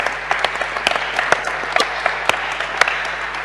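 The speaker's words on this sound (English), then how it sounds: "please give them a round of applause" A conference audience applauds in a steady patter of many hands, with sharper individual claps popping out above the dense wash, close and fairly loud throughout.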